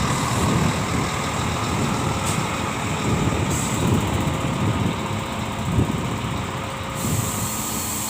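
A Scania K410IB bus idles with a loud, steady diesel rumble close by, and short hissing air brake releases break in a few times over the engine.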